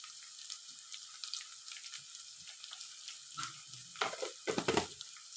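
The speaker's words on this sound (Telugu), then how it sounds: "ఇప్పుడు ఇది మంచిగా ఇట్లా మనము ఆయిల్లో అయితే ఫ్రై చేయాలి" Onions, green chillies and curry leaves sizzle softly in hot oil in a pan, a steady close crackle with a few louder stirring scrapes and spatters near the end.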